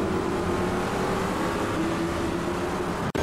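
A GT race car in a sim racing game holds a loud, steady engine drone through a night qualifying lap on a Florida circuit, nearly flat out with only a slight pitch change and a brief dropout at the end.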